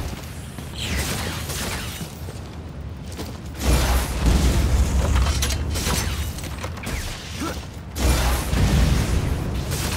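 Explosions and heavy booms fill a firefight in the video game Lost Planet, with dense, continuous rumbling blasts and crackling debris, surging louder at a few points.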